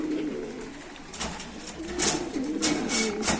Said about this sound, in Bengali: আরেক জোড়া কবুতর ভাই সেম কোয়ালিটির কবুতর দেখা যাচ্ছে এখানে